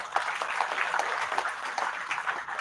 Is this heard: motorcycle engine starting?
no